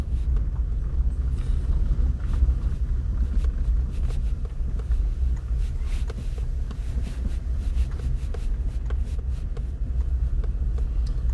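A vehicle rolling over a bumpy rural road near Williamsfield, St. Elizabeth, Jamaica, heard from inside as a constant heavy low rumble with scattered rattles and jolts, loud and without talk.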